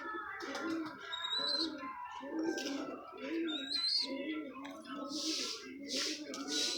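Pet Mamdeen pigeons coo in a steady, repeating rhythm of low, throaty coos close by, with a few higher chirps and twitters over them.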